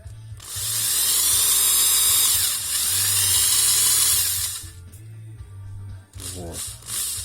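A drill grinds hard and loud into carbon deposits inside a Ford Focus 2 1.6 engine, running steadily for about four seconds with a brief dip, then stopping as quieter clatter and a short voice follow.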